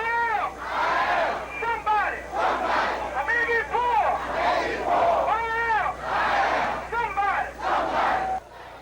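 A crowd of about 2,000 marchers at a rally on the steps of City Hall shouts and cheers in loud, sustained waves of massed voices. The roar rises and falls continuously and cuts off abruptly near the end.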